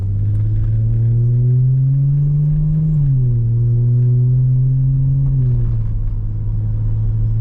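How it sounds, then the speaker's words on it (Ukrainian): A Mercedes C300 4matic V6 engine hums steadily while the car drives under gentle acceleration, its low drone rising in pitch and then dropping briefly with each gear change, heard from inside the car with no talk. "V6 він він звучить все ж таки, коли ти їдеш."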